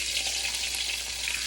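A sirloin steak sears in a hot pan, giving a continuous dense sizzle with a faint underlying hum, steady and close with no talking.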